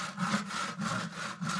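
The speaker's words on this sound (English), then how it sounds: "Some sawing" Wood being sawn by hand in a steady back-and-forth rhythm of about five rasping strokes, close and fairly quiet, with no talking.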